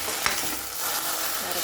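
Okra frying in a pan for a simple poriyal, a steady close sizzle with a brief scrape of stirring near the start.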